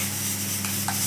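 Mutton pepper soup with ground pepper and cumin stirred in a pot, a steady close scraping and swishing over a constant low hum, with a couple of brief brighter scrapes near the end.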